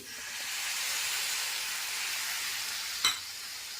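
Clam roast with chopped tomato sizzles and hisses in a pan while being stirred, a soft steady frying sound with one brief scrape of the spoon near the end.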